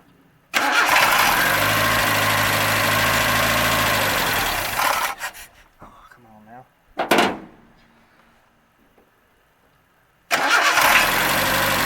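A 1981 Datsun 210 engine cranks and starts, runs loud and rough for several seconds, then stumbles and dies before cranking and catching again at the end, heard up close with a voice at times.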